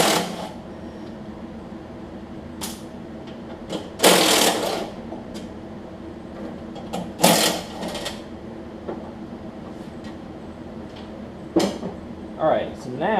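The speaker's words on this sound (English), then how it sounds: "Taking those 4 bolts off that I mentioned." Four bolts removed with a 10 mm or 3/8 wrench from a Craftsman LT1000 riding mower, heard as rapid ratcheting bursts and metallic clanks between quieter pauses, close by, with some talk.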